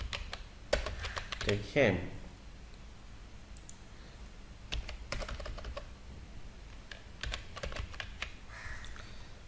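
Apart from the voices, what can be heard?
typing on a computer keyboard, inserting data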